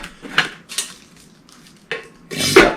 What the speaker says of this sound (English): Place the kettle over the closed end of this.